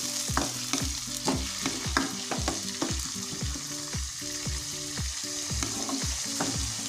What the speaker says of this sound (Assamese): মচুৰ দালিখিনি মই এয়া ভাজি লৈছোঁ।